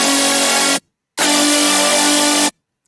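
Two loud, thick three-layer supersaw synth chords, a short one then a longer sustained one, bright and buzzy with dense detuned harmonics and silence between.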